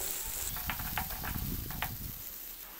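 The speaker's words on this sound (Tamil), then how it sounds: "பெரிய சைஸ் வெங்காயம் ஒன்று நல்லா வதக்கிக்கலாம்." Large onion sautéing in a pan until brown, giving a steady low sizzle with a few short scraping clicks from stirring, close and moderately quiet, with no talking.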